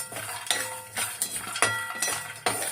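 Dates, urad dal and about ten cardamom pods dry-roasting in a pan, heard as a series of close scraping stirs and light clinks of a spoon against metal, repeating roughly every half second, fairly quiet.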